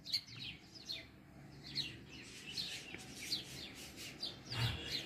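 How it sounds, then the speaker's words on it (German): Small birds chirp and tweet in repeated quick bursts in the early morning, fairly faint and at a distance over quiet background hiss, with no one talking. "Die Vögel zwitschern."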